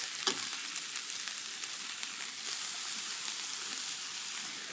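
Chouriço and chopped onion sizzling in a generous pour of olive oil, a steady quiet hiss with small pops and a brief stirring clatter near the start.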